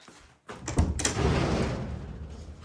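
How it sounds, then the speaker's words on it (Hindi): A front door is unlatched and pulled open with a click and a sliding thump, followed by a rush of outside noise, close and fairly loud, without voices. "जाके जो है ना वो दरवाजा खोलते हैं और पूछते हैं कि भाई क्या सूरत हाल है"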